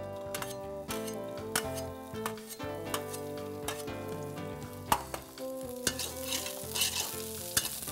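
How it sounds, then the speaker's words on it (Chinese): Garlic and chili slices sizzle in a little salad oil in a wok for stir-fried tofu skin with bok choy, with crisp stirring clicks and a soft hiss beneath steady background music. "加一点点油， 沙拉油， 然后把它爆香。 我们先爆香我们的蒜片、"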